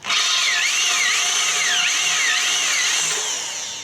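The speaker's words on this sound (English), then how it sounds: "I swapped over to a different size drill bit, a little bit bigger." A power drill with a slightly larger bit bores into the metal drum of an ugly drum smoker, a loud, steady whine with wavering pitch that holds throughout and eases slightly at the end.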